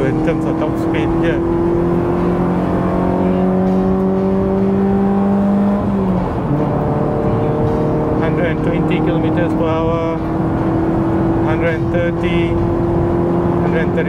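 A Toyota Vios GR race car pulls hard on a circuit, its engine note climbing steadily through the gears with a sharp shift break midway, then droning on close and loud from the cabin.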